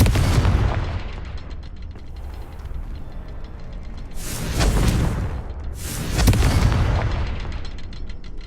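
Deep booming blasts of the Confringo fire spell in Hogwarts Legacy, two heavy explosions with rumbling low tails over a rough roaring game background, loud and close.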